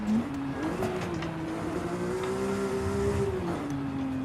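A Porsche GT3 RS on a race track, its engine holding a steady loud drone that rises and falls slightly with throttle while the car is driven hard through a slide.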